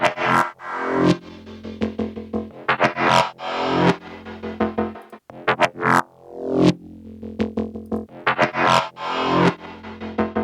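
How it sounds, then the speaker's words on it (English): A distorted synth bass riff plays in rhythmic bursts, its reverb swelling and receding as an automated wet/dry curve sweeps the effect in and out. "I put the reverb on and I sent the curve to the wet dry amount."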